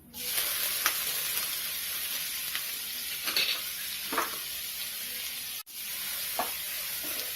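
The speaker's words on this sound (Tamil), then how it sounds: "நல்லா வதக்கிக்கோங்க" Sliced onions sautéing in oil in a pan with bay leaf, cinnamon and cloves, a steady close sizzle with occasional stirring scrapes and light clinks, no talking.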